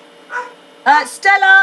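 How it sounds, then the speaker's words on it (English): A pet rescue dog barks indoors at home, giving a few short, sharp barks close by while a woman calls its name. "sorry, that's my dog's barking"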